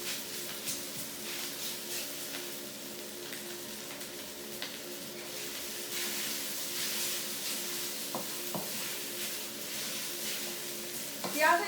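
Char kuay teow flat rice noodles stirred in a wok with prawns, a steady sizzle with scraping stirs running throughout, moderately close, with a few sharper clatters near the end.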